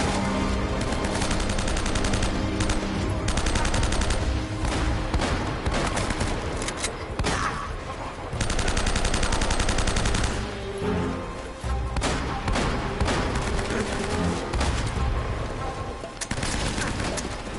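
Sustained gunfire in the action game Uncharted, loud rapid bursts and volleys crackling almost nonstop, with a couple of brief lulls between the exchanges.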